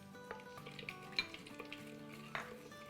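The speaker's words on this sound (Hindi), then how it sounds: "बस इसको हम 30 सेकंड फ्राई करेंगे।" Whole cumin, a large cinnamon piece, two big cardamoms and 8-10 dried red chillies frying in hot oil for a mutton salan: a faint, quiet sizzle with scattered light clinks and taps of a spoon against the pot.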